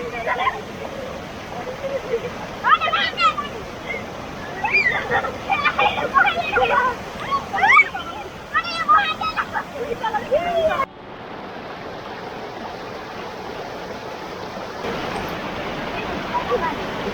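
Cold mountain stream in the Dodra Kwar area rushes with a steady, broadband wash of water throughout, joined by scattered voices and chatter in the first half.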